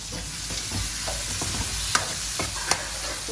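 Garlic, onions and country tomatoes sauté in a pan for a crab pepper masala with a close, steady sizzle, with a few spatula scrapes and taps standing out, and no one speaking.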